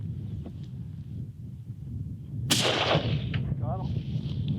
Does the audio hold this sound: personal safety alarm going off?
no